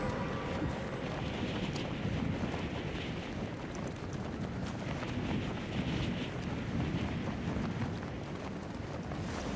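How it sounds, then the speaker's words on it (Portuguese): A jet ski running across open water, its engine a steady roar mixed with heavy wind buffeting and water rush, loud and continuous throughout. "É porque eu gosto de andar de moto flutuando."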